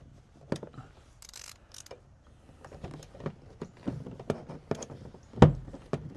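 Sharp plastic pops and clicks as door panel clips pop loose on a 1998–2002 Honda Accord, in irregular bursts, with one loud snap near the end amid quieter scraping.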